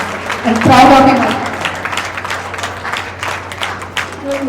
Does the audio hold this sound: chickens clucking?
no